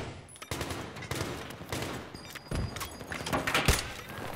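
Battlefield 3 multiplayer combat, with bursts of automatic gunfire and single shots cracking at close and middle distance and an uneven, intense rhythm.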